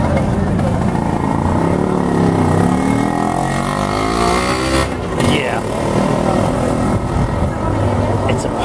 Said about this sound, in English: I began seeing more of these little bubble cars.